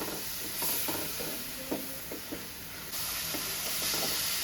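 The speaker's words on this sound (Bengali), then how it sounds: "এর মধ্যে আমরা দিয়ে নিচ্ছি পরিমাণ মতো হলুদের গুঁড়া দিয়ে আবার একটু ভালো করে নাড়িয়ে নিচ্ছি" Spice masala with turmeric powder sizzles in a frying pan as a spoon stirs and scrapes through it, soft clinks over a steady hiss, with a louder burst of frying toward the end.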